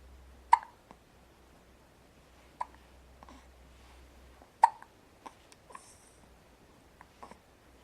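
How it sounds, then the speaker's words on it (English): A child hiccups several times at irregular intervals, each hiccup a short sharp catch of breath, fairly close in an otherwise quiet room with a low hum at the start. "has the hiccups"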